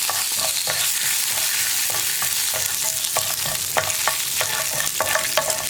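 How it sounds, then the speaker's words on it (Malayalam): Curry leaves frying in oil in a pan for beetroot chammanthi, a constant crisp sizzle with sharp spitting pops and stirring scrapes, close and loud with no talk. "കറിവേപ്പിലയും ഒന്ന് കുക്കായി വരണം."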